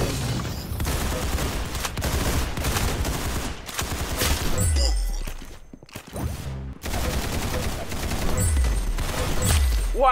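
Dense, continuous automatic gunfire from the Roblox Arsenal game on the aircraft map rattles loudly, with rapid bursts and booms, a brief lull near the middle, then sustained shooting again.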